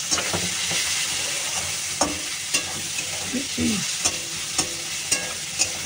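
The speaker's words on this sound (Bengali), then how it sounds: "আর একটু টমেটো আর পেঁয়াজ ভালো করে একটু ভেজে নিই" Tomato and onion frying in oil in a pan after prawns, a loud continuous sizzle with repeated scraping stirs and spatula knocks at a steady rhythm, close by, with no talking.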